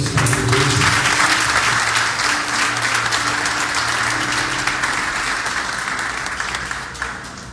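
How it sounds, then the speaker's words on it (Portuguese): A congregation at a Baptist church Sunday service applauds loudly, a thick wall of clapping that starts at full force and slowly thins and fades over several seconds. "Aplauda Jesus por Deus"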